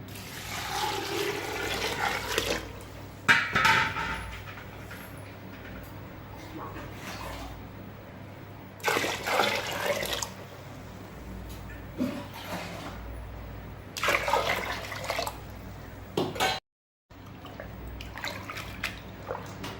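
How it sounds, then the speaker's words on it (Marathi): Water is poured repeatedly onto soaking wheat grains, splashing and trickling in several bursts of a few seconds each, close and under intermittent talk. "आता दुसरं पाणी टाकायचं आहे."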